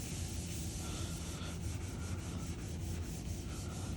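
Old paint on a 1982 Toyota Hilux 4x4 pickup is wet-sanded by hand, giving a close, continuous gritty rasp with regular back-and-forth strokes and no talking.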